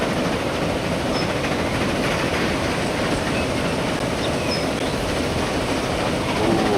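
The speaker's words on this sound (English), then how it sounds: "look at our other train arriving" A train in Transport Fever 2 arriving and passing, heard from the cockpit as a continuous loud rumble of wheels on track with faint clicks, no talk.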